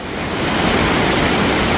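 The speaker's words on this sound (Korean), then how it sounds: "소리가 들립니까? 물소리가 들려요." A mountain stream in the Ala Archa National Park valley in Kyrgyzstan rushing loudly and steadily, a close broadband roar of flowing water with no voices.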